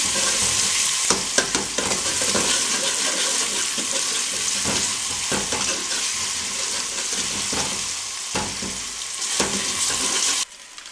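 Onions, tomatoes, garlic and green chili paste fry loudly in a pan for karri pakora, with a steady hiss and sizzle, intermittent stirring scrapes, and a sudden drop to quiet at the end.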